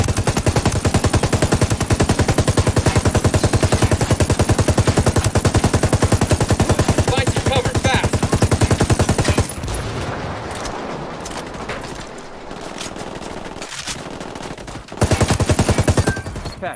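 Continuous loud automatic gunfire in the video game Ghost Recon Wildlands, a rapid unbroken rattle for several seconds, then quieter scattered shots and a final short burst.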